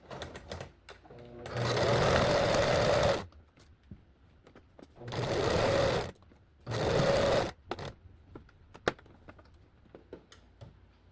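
A sewing machine stitches curved sweatshirt sleeve seams in three separate bursts, each a couple of seconds long, with quiet pauses and small handling clicks between them.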